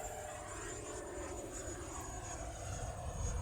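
A Viper Jet electric ducted-fan RC model flies under full power, a faint, distant whooshing whine that holds steady as it passes overhead.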